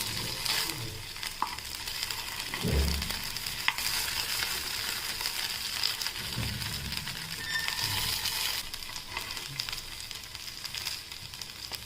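Sabudana vada fry in a little oil in an appe pan, a steady soft sizzle with occasional clinks and scrapes as the pieces are turned, close and moderately quiet, with no talk.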